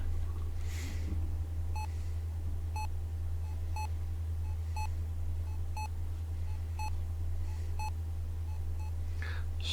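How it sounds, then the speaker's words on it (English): Evenly spaced electronic beeps repeat about once a second in the Better Mart store game, crisp bright tones over a constant low hum, with no talking. "all that beeping making me sleepy"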